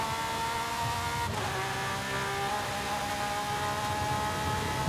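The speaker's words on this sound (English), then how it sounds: "Oh, this sounds great. Even with the turbos now. Sounds like a race car." Lamborghini Sian engine in the Forza Horizon 5 racing game, a sustained high-revving whine that climbs, shifts abruptly in pitch once, then keeps pulling hard, steady and fairly loud with no talk.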